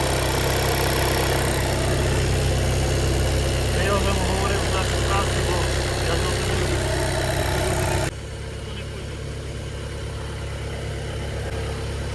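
A car engine idles evenly with a steady, loud mid-range hum and vibration that continues without change, then drops to a quieter, duller tone partway through; no talk is heard over it.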